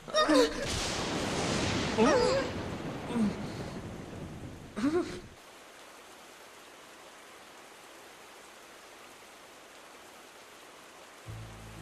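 Heavy thunderstorm rain with crackling lightning and rumbling thunder fills the first five seconds, loud and close, with sharp crackles, before cutting abruptly to near silence.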